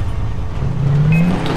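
A car in Far Cry 3 pulling away, its engine droning steadily close by and revving upward with a rising whine partway through.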